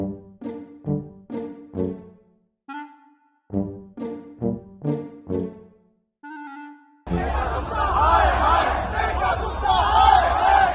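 A large crowd at Feroz Shah Kotla, gathered to see Lionel Messi, breaks into a dense, loud roar of cheering after several rhythmic shouted chant-like calls.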